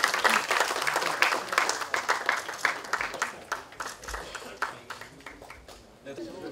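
Applause from attendees at a Korean party floor strategy meeting, sharp individual claps forming a lively irregular burst that thins out over several seconds, with a brief murmur at the end.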